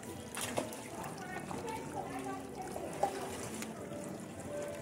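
Fish crowded in shallow water splash and wriggle with intermittent small splats and trickling water, sharper splashes near the start and middle, while people talk over them.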